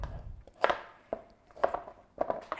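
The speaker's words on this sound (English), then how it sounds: "So what I'm going to do is I'm going to cut my carrots" Unpeeled carrots diced with a knife on a cutting board, a handful of sharp, close chops at irregular intervals, with no talking.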